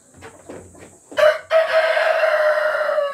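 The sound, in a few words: Rhode Island Red chickens, rooster crowing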